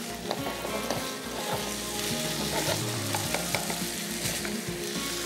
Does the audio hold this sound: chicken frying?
yes